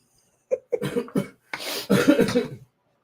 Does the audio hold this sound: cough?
yes